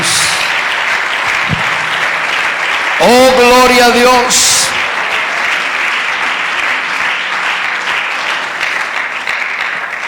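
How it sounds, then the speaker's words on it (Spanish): Church congregation applauding loudly at a Sunday school service, a dense burst of clapping running through the stretch under a preacher's ongoing amplified voice and a brief sung or shouted phrase. "Dele ese aplauso bien fuerte al Rey Jesús."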